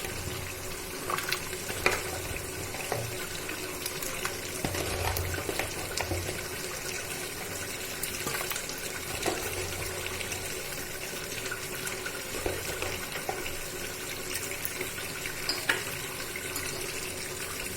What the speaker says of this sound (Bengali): জলটা গরম হয়ে গেছে, এবার মা আমগুলো দিয়ে দিচ্ছে